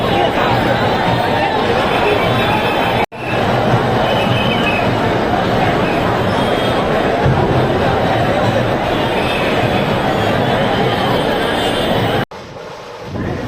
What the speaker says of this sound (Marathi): गर्दी बघा मित्रांनो किती आलेली, पूर्ण जाम झालेला आहे.